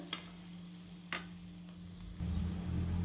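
Cashews and onion roasting in a pan with curry leaves for green chili chutney, a steady close sizzle with a couple of soft stirring scrapes, the frying growing louder toward the end.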